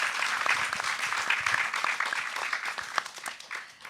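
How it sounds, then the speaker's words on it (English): Audience applause at a panel event, a steady wash of many hands clapping at moderate volume for about four seconds, tapering slightly toward the end with no voices over it. "Can we give everyone a big round of applause?"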